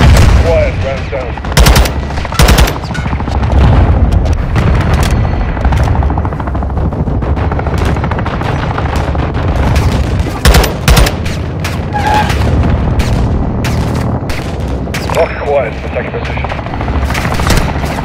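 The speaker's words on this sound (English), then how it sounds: "Taking belt fed fire from beneath the tower" Belt-fed machine gun fire in the Call of Duty MW2 video game, rapid loud bursts and booming impacts over a helicopter drone, with radio voices talking between shots.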